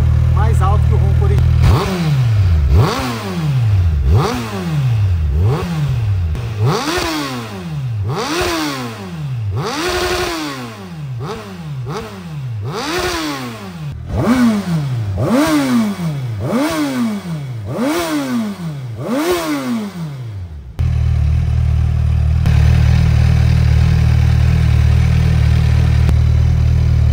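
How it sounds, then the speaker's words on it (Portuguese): Motorcycle fitted with an aftermarket Akrapovic exhaust, about 20-25% louder than stock, revved repeatedly, about ten loud, close rising-and-falling blips over a steady idle, then settling to a rough, deep idle. "pra vocês poderem ouvir o barulho de escape que ficou essa moto"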